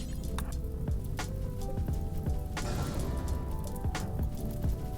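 Rain falls steadily in the RimWorld video game, a dense continuous patter of small drops with scattered sharper taps over a soft background hum, even and close throughout.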